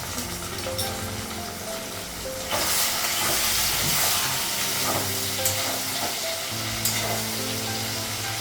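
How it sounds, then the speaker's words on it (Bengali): Turmeric, cumin and chili powder fry with tomato in a pan for a fish curry, giving a steady broad hiss that swells louder partway through, with occasional stirring scrapes, close and continuous, with no voices. "মশলাটা ভালো করে ভাজা হয়ে গেছে"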